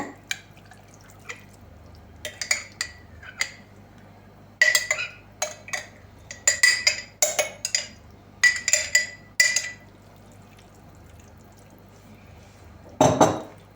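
A spoon knocks and scrapes inside a pot of Ukrainian red borscht, giving a series of sharp clinks and taps in irregular clusters, then a louder scrape near the end.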